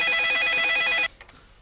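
A telephone bell rings loudly and steadily for about a second, then cuts off abruptly, leaving faint background sound.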